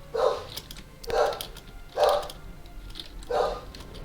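Dogs barking in short repeated bursts, four or five mid-distance barks spaced about a second apart, with no talk over them.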